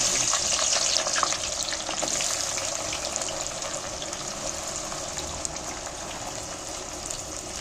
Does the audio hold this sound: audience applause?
no